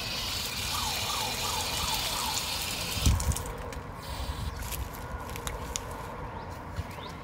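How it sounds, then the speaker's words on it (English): Tap water runs into a sample container for a chlorine residual test, a steady close hiss that stops partway through, followed by quieter handling noises and a faint background hum. "it's now time for us to collect water for our chlorine residual"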